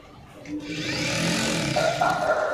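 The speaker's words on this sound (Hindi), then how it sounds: "यहाँ ऊपर तक हम सिलाई को ले जाते हैं।" A sewing machine stitches lehenga panels together, whirring steadily and close at hand after a brief quiet start, with a faint rise in pitch near the end and no talking.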